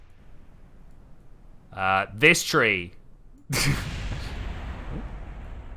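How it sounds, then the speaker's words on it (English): Explosions in Kerbal Space Program: a sudden loud burst cuts in after a short spoken phrase and trails into a rumbling, fading wash of debris noise. "there are some explosions"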